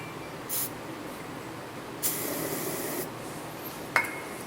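Starting fluid hisses out of an aerosol can into the spark plug hole of a snow blower in short sprays, one brief puff, then a longer steady blast, then a final quick spurt, close and fairly loud.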